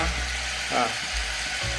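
Tamarind and ridge gourd fry in oil in a pan for Andhra-style thokku, a steady close sizzle with a brief stirring scrape partway through.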